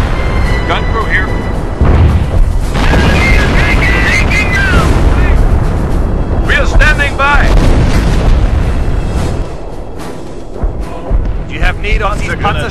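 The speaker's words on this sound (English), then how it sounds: "The howitzers are putting holes in our defenses." Howitzer artillery shells explode around defensive positions in the strategy game Company of Heroes, with heavy rumbling booms and battle noise under frequent radio-style voices.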